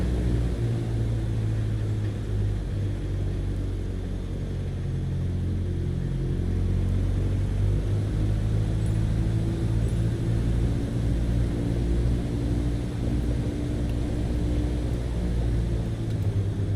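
Steady airplane engine drone in Microsoft Flight Simulator 2020 during a landing approach with power reduced, a continuous low rumble and hum holding evenly throughout, no voices.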